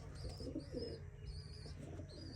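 Soft, low pigeon coos repeat faintly in the background, with a few thin chirps above a quiet, steady hum.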